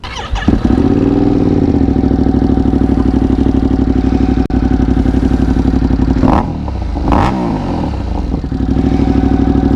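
A 2025 Ducati Panigale V2 motorcycle engine runs loud and close with a steady throbbing idle, then revs up in a few sharp blips before settling back.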